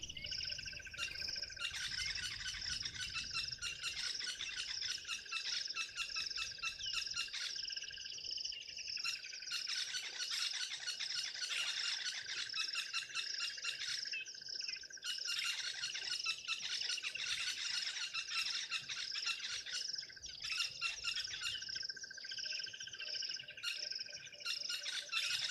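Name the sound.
crested barbets and buffalo weavers calling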